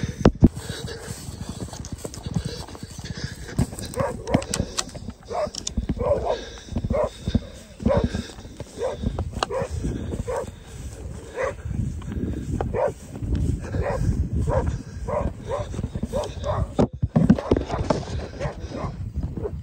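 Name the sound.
hunting dogs barking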